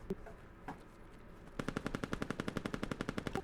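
An airsoft AK rifle fires a rapid full-auto burst of evenly spaced sharp cracks after a couple of isolated shots, close but fairly quiet, with no talk.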